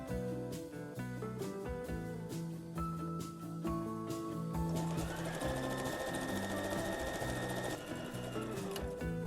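A sewing machine stitches a structured fabric bag in quick, steady runs of mechanical stitching, pausing briefly between bursts and then running continuously, close and fairly quiet.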